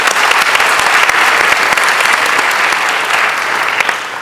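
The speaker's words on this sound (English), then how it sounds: "if you could actually give a round of applause to Courtney" Loud, dense applause from a conference audience welcoming a session organiser, a continuous roar of many hands with a few sharper claps near the front, steady throughout.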